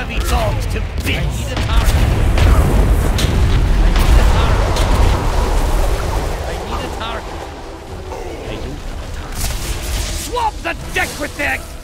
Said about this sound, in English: Cannon! Blast these scurvy dogs to bits!